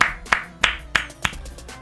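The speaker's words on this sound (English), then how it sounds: "I mean, just round of applause, everybody." A few slow, evenly spaced hand claps, about four sharp, close claps roughly a third of a second apart, alone without voices.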